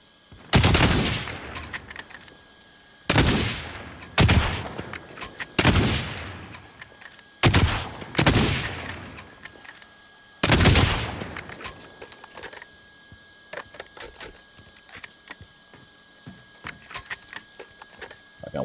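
Video game gunfire erupts in six loud, clustered bursts of rapid shots at close range, each fading quickly, followed by quieter scattered shots toward the end.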